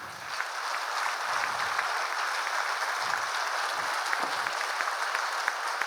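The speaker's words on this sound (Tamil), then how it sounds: "இந்த பாலு அவர்களுக்காக எல்லாம் கைதட்டுகளே." A hall audience in Pollachi applauds for Balu with steady, moderately loud clapping that holds evenly throughout, its texture thickening and thinning slightly, with no speech on top.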